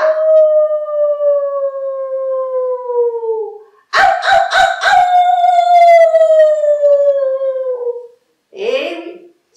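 A storyteller's voice imitates a wolf howling, with long falling howls, a brief stuttered break in the middle, then a final short whimpering cry, close and loud, with no other talk.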